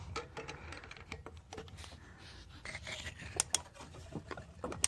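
A ratchet fitted with extensions tightens a bolt, giving rapid quiet clicking and rubbing ticks in uneven bursts, close but faint, with a few sharper clicks near the end and no talk.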